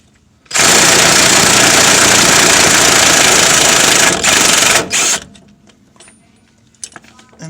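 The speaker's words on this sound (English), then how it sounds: "We're going to go ahead and impact it in. So you're going to tighten the bolt." An impact wrench hammers a 19 mm bolt tight on a Chevy Tahoe differential during a carrier bearing replacement. The rattling burst is loud, close and continuous for about four seconds, then stutters briefly before quiet shop noise follows.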